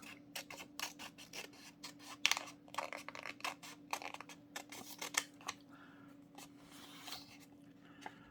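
Scissors snipping through a book page while tracing around a calla lily outline, a rapid run of close, crisp cuts with short pauses between bursts, no voices.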